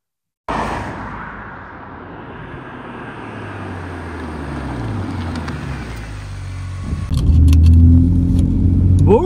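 A BMW M3 E46 with 343 hp and a manual gearbox starts with a deep engine drone that builds steadily, then swells into a loud, close rev as the car sets off, with no talking.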